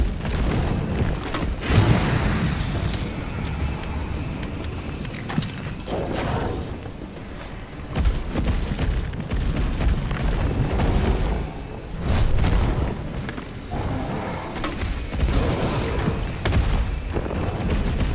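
Repeated booming blasts and mechanical clatter from incendiary grenade explosions in Resident Evil 3, a dense, loud run of thuds and rumbles with a sharper burst near the middle and no talk.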